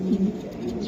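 Racing pigeons from a club loft coo close up in a short, soft, low warbling call, alone with no voices.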